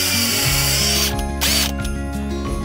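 A power auger bores holes for daffodil bulbs in clay soil, a steady close motor drone with strained pitch shifts and brief higher-pitched bursts as the bit bites and clears the dirt.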